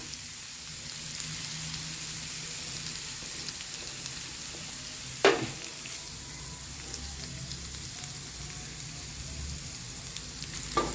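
Minced pork and shrimp stir-frying with holy basil and chilies in a hot wok, a steady close sizzle throughout with one sharp clatter midway and another near the end, no voices.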